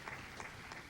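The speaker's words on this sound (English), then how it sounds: "He gets a great round of applause" A bowling tournament crowd at a boys' handicap final gives faint, distant applause, a steady wash of clapping that lasts about a second.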